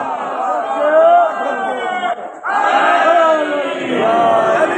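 Large crowd chanting religious slogans in unison during a Muharram majlis at an imambargah, loud and sustained with many voices rising together, a brief dip midway before the chant swells again.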